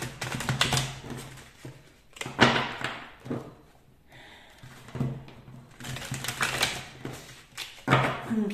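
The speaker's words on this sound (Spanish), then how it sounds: "Ahora vamos a barajar estas cartas, que es el tarot de los momentos místicos." Tarot cards being shuffled by hand, a papery riffling and flicking in several bursts with short pauses between them, close and fairly quiet, with no voices.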